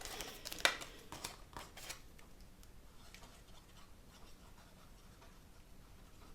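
Scissors trim paper card in a short series of quick, crisp snips near the start, then fade to quiet, faint handling; close and soft.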